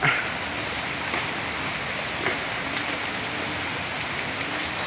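Rain falls steadily near a fishpond during a downpour of several hours, a continuous hiss with scattered drop ticks and a faint repeating chirp over it, no talking.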